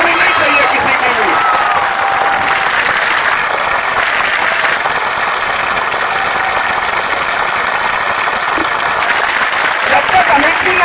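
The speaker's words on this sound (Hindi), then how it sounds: "ताली रुकनी नहीं चाहिए किसी की भी" A large crowd at a welcome reception for a municipal council chairman and members applauds steadily and continuously, a dense, even wash of clapping with no pause.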